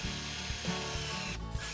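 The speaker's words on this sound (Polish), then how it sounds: "Ramę tworzymy z kantówek heblowanych, które mocujemy do sklejki za pomocą wkrętów do drewna." A power driver sinks wood screws through planed wooden battens into plywood, giving a short, close whirring whine with brief pitch changes and a rubbing grind as the screw bites into the wood.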